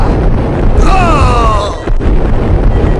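A bomb explodes in Max Payne as a loud, heavy rumble that fills the whole stretch, with a drawn-out shout-like cry over it and a sharp crack near the end.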